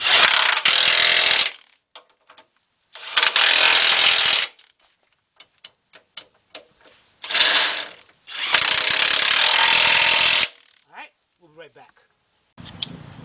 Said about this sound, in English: So let's push those back and tighten up the bolts.